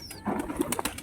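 A held pigeon flaps its wings in a few quick, close bursts of feathery flutter and rustle, brief and fairly soft.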